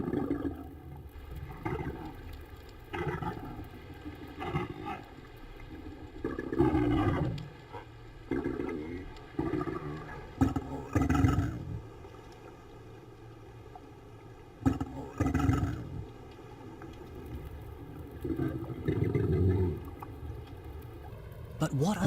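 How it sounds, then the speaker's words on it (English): Minke whale calls recorded underwater, a series of deep pulsing, rumbling bursts with strong harmonic tones, repeating irregularly through a quieter background hum. "the minke sounds may be a reproductive call or song"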